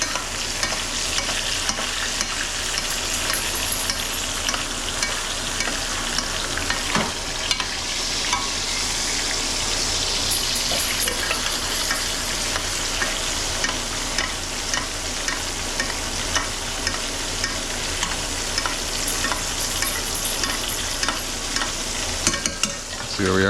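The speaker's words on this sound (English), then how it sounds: "I'm going to tilt the pan a little bit like this and just baste" Pan-seared pork chops are basted with butter, thyme, garlic and shallot in a tilted pan. A loud, close, steady sizzle runs throughout, with rapid repeated spooning spatters and clinks over it and no talking.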